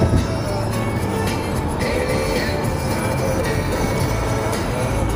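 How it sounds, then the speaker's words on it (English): A Chicago L train rumbling loudly and steadily nearby, with dense wheel and rail noise filling the whole stretch and a brief squeal of wheels at times, no clear talking over it. "We got the L, baby, the L train."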